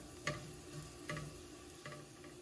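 Garlic sautés in a pan with a faint, quiet sizzle, punctuated by three soft spatula taps and stirs at roughly even intervals, with no talking.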